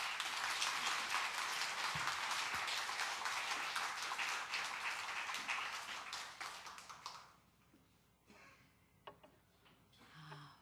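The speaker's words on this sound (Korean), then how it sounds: "우리 오실 때 큰 박수로 한번 환영하십시다" A church congregation at a Sunday service applauds to welcome a guest speaker. Dense, steady clapping fills the first seven seconds, then fades quickly into scattered faint taps and rustling.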